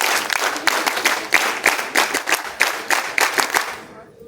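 An NCC cadet group claps in a rhythmic pattern at a national integration camp, sharp bursts of hand claps repeating in steady beats before stopping abruptly.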